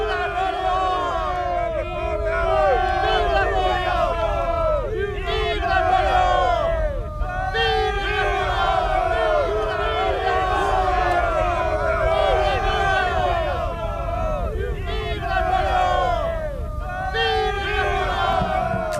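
A massed crowd of soldiers at Austerlitz cheers "Vive la France" in loud, repeated waves of chanting voices that rise and fall steadily throughout.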